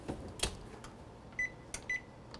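An oven in a home kitchen gives a few faint, short electronic beeps and soft clunks as a layered turtle cheesecake is placed inside, heard close in a quiet room.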